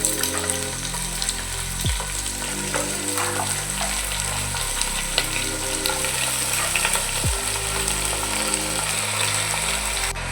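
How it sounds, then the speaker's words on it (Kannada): Chicken frying in a pan for a Karnataka-style chicken pulimunchi, a steady close sizzle with a low droning hum underneath and a couple of brief scrapes, continuous for about ten seconds with no talking. "ಎರಡು ನಿಮಿಷ ಸರಿಯಾಗಿ ಫ್ರೈ ಆಗಿದೆ ಅದು"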